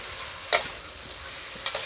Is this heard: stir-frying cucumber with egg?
yes